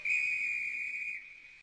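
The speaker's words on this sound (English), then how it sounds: "Oh, there's your whistle." A single steady high-pitched whistle blows loud and clear for over a second, then tapers off abruptly; no talking.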